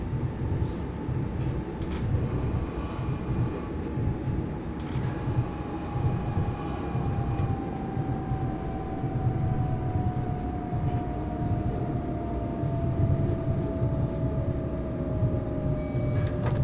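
A City Shuttle commuter train in Train Simulator 2018 runs steadily on the Südbahn line near Vienna, a continuous rumble of wheels and motor with a faint descending whine, close and unbroken throughout.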